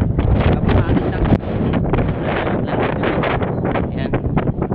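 Strong wind blowing near Palanas Bridge in Lemery, Batangas, a steady close buffeting roar across the microphone with a sharp gust near the start.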